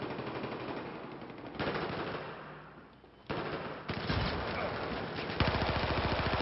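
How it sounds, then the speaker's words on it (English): Rapid automatic AK rifle fire from a competitive 5v5 Domination match on the Dawnbreaker map rattles in loud repeated bursts, broken by brief pauses and a sharper final volley. "Look at Shane rocking an AK"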